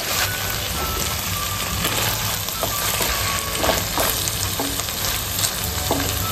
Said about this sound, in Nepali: अब म यसमा अघि फ्राई गरेको चिकन राख्छु, हेर्नुहोस् है त।